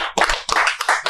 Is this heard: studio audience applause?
yes